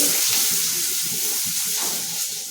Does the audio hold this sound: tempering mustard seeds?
yes